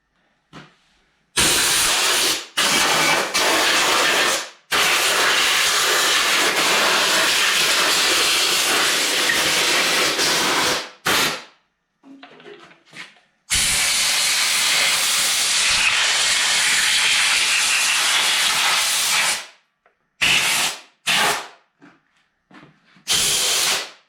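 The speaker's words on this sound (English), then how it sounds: "I'm gonna put air pressure in there, then clean it very well" Compressed air hissing hard through a John Deere LA135 lawn tractor's air filter, loud steady blasts lasting several seconds each, separated by brief pauses and a few short bursts near the end.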